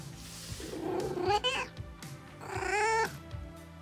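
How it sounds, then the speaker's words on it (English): A pet cat gives two drawn-out meows, the second longer and louder, close to the microphone with quiet background sound between. "This is my cat, Fifi."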